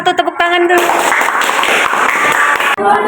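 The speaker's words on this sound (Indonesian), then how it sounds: "Tepuk tangan dulu." A classroom bursts into brisk applause, loud and close, after a short moment of voices, the clapping running steadily before fading.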